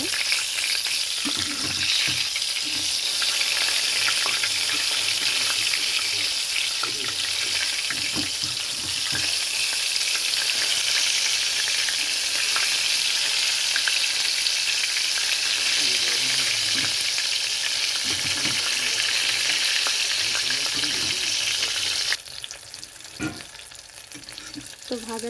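Pumpkin-leaf parcels of loitta fish fry in white oil in a pan, hissing and spitting in a steady, close, full sizzle, with occasional utensil knocks and a slight drop in intensity toward the end.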